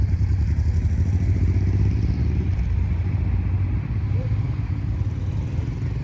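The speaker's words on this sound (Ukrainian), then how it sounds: "Це все на парковці, тому тут мотоцикли і шум." Steady low engine rumble of motorcycles and traffic fills the parking lot at the Lipno dam, a constant droning noise with no clear speech over it.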